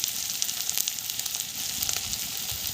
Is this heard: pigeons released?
no